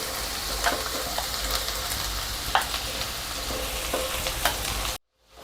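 Chopped mild green chillies sizzle steadily in a hot pan with oil, a close, dense crackle broken by a few sharp pops and stirring scrapes, then cutting off abruptly near the end.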